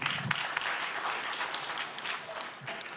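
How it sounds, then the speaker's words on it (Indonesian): An audience applauds Pak Oli at an award event, a few seconds of steady crowd clapping at moderate volume with a faint voice or two underneath. "Tepuk tangan dong untuk Pak Oli dulu."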